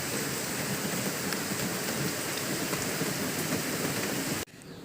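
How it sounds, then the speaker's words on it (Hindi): Heavy rain pours steadily at night, a dense, loud, close hiss of drops that holds unbroken and then drops sharply in level just before the end. "पर रात में बारिश, पर बहुत ज़्यादा बारिश गिरती है।"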